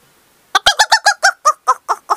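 A human voice imitates a hen clucking, giving about ten quick, evenly spaced clucks close up after a brief moment of quiet.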